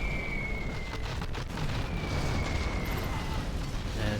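Artillery shells pound the battlefield in a Command & Conquer Generals Zero Hour 1v1 match, a continuous rumbling roar of overlapping blasts with faint higher game tones, steady and loud throughout, with no voices.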